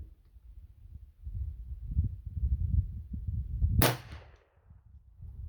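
A single sharp gunshot from a .32 extra long centerfire cartridge, a sudden loud crack near the middle with a short fading tail, set against low rumbling outdoor background noise.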